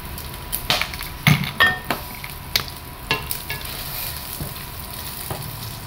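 Vegetables stir-fry in a hot pan for ginisang gulay, with a steady sizzle broken by several sharp scraping and clinking strokes of a utensil against the pan, close and alone.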